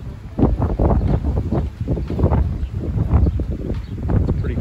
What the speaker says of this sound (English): Gusty out here, and this thing is doing really well.